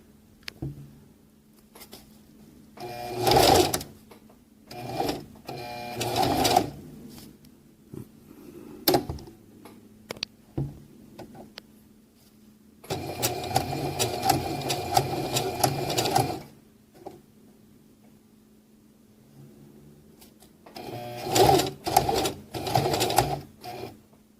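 A sewing machine stitches a drawstring pouch in several close bursts of rapid whirring, a short run, a longer continuous run in the middle and a final burst, separated by quiet handling pauses.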